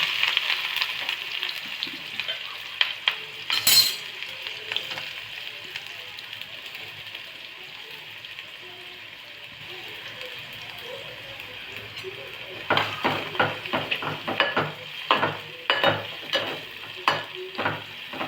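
Mustard seeds and onion fry in oil heated on a gas stove, a steady close sizzle that breaks into a run of sharp popping crackles toward the end.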